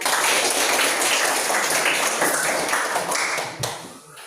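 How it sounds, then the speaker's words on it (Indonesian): Classroom applause for the first student group after their presentation, a dense, steady wash of many hands clapping at close range, fading slightly near the end. "tepuk tangan untuk kelompok 1 dulu"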